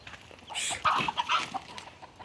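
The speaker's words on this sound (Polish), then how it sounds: "Jest to indyk." A turkey calls out with a short burst of throaty clucking gobbles, close and moderately loud over faint outdoor background.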